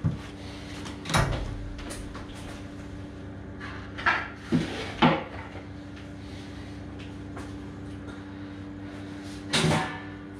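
Ceramic tiles moved around a shower during a plumbing leak check, a series of sharp clacks and scrapes in separate bursts spread across the stretch, with quiet room background between them.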